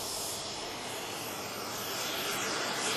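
A model warbird fitted with two drop tanks runs its engine, a continuous loud hissing roar that holds steady and swells slightly toward the end, with no talk.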